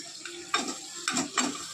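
Cluster beans (guar) tipped into a hot spice tempering of mustard seeds, cumin, asafoetida and ground chutney, giving close, repeated bursts of sizzling and stirring clatter, three sharp hits over a steady fry.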